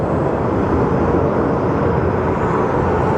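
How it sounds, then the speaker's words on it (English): A Mesa Airlines plane departing Sky Harbor airport roars as one continuous, loud broadband jet rush that holds steady throughout. "And Mesa Airlines departing for Houston."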